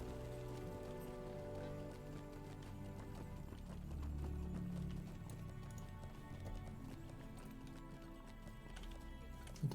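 Hooves of a horse in a video game clip-clop along in a quiet, steady trot under soft game music, fairly faint and continuous throughout.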